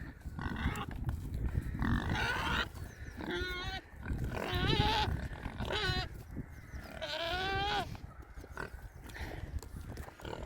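Large Black and Saddleback pigs on a farm, with repeated bleating and grunting livestock calls close by over a continuous rustling background, several rising cries spread across the stretch; no talking.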